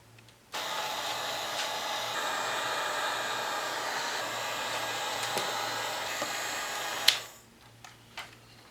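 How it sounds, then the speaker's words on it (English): A heat gun runs as it shrinks plastic wrap over a model rat for a zombie tree topper, a loud steady blowing roar with a faint hum that cuts off abruptly, followed by a couple of small clicks. "we're going to take the heat gun and shrink wrap the whole rat."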